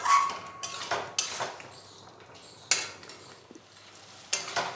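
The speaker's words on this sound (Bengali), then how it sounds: "এবার আলুর সাথেও মশলাটা আরও একটু ভালো করে কষিয়ে নেব।" Potatoes and spice masala for a fish curry are sautéed in a pan, with a few separate bursts of scraping and stirring over a faint background sizzle, close by and with no voices.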